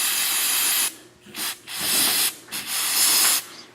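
An aerosol can of ether sprays a Prius transmission part in several hissing bursts of varying length with short gaps between them, loud and close, with no voices.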